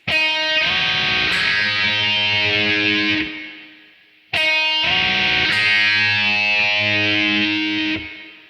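Two distorted electric guitar phrases from the interlude, played through a phaser. Each sustained, swirling passage rings for several seconds and then fades, with a short gap between them.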